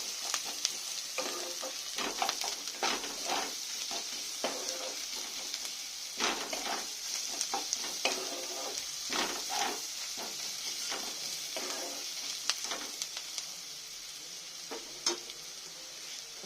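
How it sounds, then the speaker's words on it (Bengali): Garlic paste fries in a pan, a continuous bright sizzle broken by frequent stirring scrapes and ticks, close up and moderate in level, no voices. "রসুন বাটাটা দিয়ে একটু ভেজে নেবো, যাতে রসুনের গন্ধটা না থাকে।"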